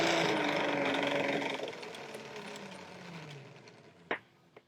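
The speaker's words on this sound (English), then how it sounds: "So now we want to retract the hose." A Jamec PEM Pro X hose reel retracts its hose with a steady mechanical whir that slowly fades as the soft return eases to a stop, followed by two sharp clicks near the end.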